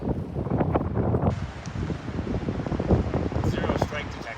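Wind gusting across an alpine lake in October during tenkara fly fishing, a broad rushing roar buffeting the microphone, with a voice speaking partway through.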